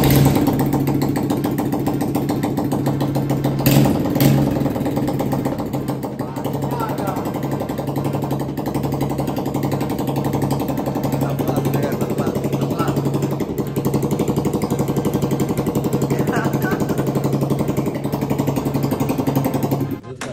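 A small moped engine on an Innova Dragster, recently flooded with water, runs at a steady idle, a continuous buzzing putter with a brief bump in revs early on.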